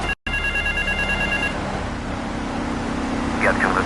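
Telephone ringing in Grand Theft Auto 3, a bright repeating electronic ring at the start over a steady hum of traffic and game ambience, followed by continued background noise.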